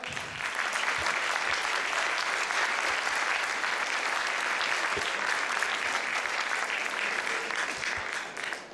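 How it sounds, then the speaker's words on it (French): An audience applauds a guest speaker at a talk in the Vosges, with steady, full clapping from a large crowd sustained evenly throughout. "Vous pouvez l'applaudir"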